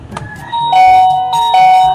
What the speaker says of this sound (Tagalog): May nag-doorbell sa gate!